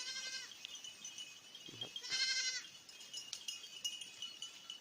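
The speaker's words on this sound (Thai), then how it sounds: "พอแพะน้อย เริ่มร้องเริ่มหลง" Young goats bleat in short, high wavering cries, one near the start and a louder one around the middle, over a steady background hiss.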